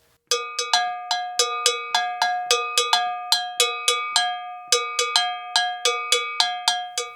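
Bright metallic gankogui bell strikes ring out in a steady, lively rhythm, about twenty clear hits with a short pause partway, each ringing briefly before the next.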